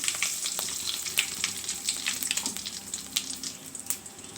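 Mustard seeds, cumin and curry leaves fry in oil for a chutney tempering, making a quiet, continuous crackling sizzle dotted with sharp little pops throughout, with no talking.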